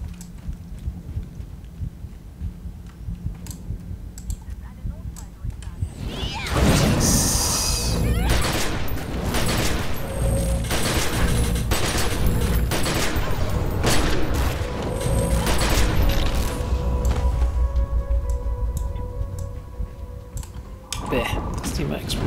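Explosions in the video game The Secret World: after a quieter start, a dense run of booming blasts and clattering bursts erupts and keeps going loudly, with a voice speaking over parts of it.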